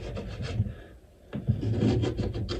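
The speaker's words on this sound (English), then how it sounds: "is to remove all the wax you possibly can with the scraper" Plastic scraper drawn along a ski base from tip to tail to remove wax, a series of close rhythmic rasping strokes with a short pause midway.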